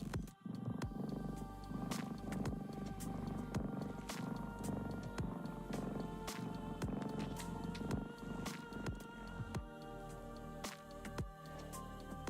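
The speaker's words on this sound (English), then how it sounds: "with my own cat, Miss Christine, trying to comfort me" A pet cat named Miss Christine purrs steadily and close for about twelve seconds, a continuous low rumble under a busy, buzzing background.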